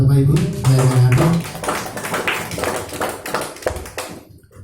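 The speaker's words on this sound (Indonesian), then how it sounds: "Boleh tepuk tangan Bapak Ibu?" A church congregation at a Sunday service claps in scattered, uneven bursts after a voice finishes speaking, the hand claps close and irregular, fading toward the end.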